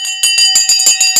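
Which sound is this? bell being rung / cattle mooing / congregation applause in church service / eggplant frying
bell being rung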